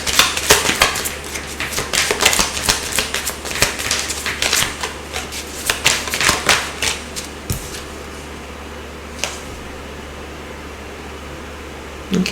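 Tarot cards are shuffled in a dense burst of quick riffling and flapping clicks that runs for about seven seconds, close and fairly loud, then gives way to near quiet with a few scattered taps.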